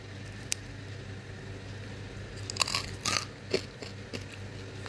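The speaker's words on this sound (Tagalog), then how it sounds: "padidinig ko sa inyo yung lutong ng balat." Crispy fried lechon kawali pork skin is bitten close up, giving a few sharp, loud crunches and crackles in quick succession over a quiet background, with no talk.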